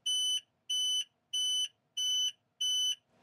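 A high water bilge alarm on a sailboat beeps five times in test mode, evenly spaced, loud, piercing and alone, each tone lasting about a third of a second.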